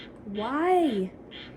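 A single bird call rings out outdoors in a remote rural spot, a rising then falling nasal cry of about half a second, fairly close and clear over quiet background.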